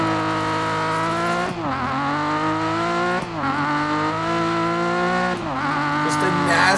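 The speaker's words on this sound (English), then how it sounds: "Just a nasty third to fourth gear rip." A Datsun 240Z engine in the Dirt Rally 2.0 video game revs hard and climbs through the gears. The loud, steady harmonic whine rises, then drops briefly at each of three quick shifts.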